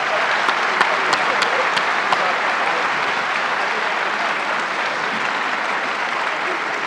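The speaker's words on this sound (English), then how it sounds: "would you please join me in a round of applause?" Audience applause for panelists at the close of a Conference on World Affairs panel, a dense, steady roar of many hands clapping that holds at full strength for about seven seconds.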